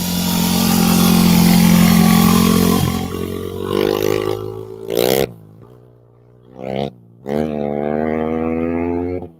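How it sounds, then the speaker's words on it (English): A motorcycle rides past on a desert wash. The loud, close engine roar sweeps by, fades, surges again in brief revving bursts, then settles into a steady drone, with no speech over it. "That's the third motorcycle that's come by."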